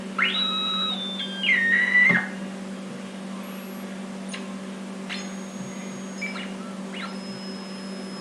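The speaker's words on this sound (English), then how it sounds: "Like motor noises." A NyquistNightmare rev 1.0 synth module with no input produces sweeping whistle-like electronic tones over a steady low hum, with gliding pitches and brief blips that loosely suggest a motor.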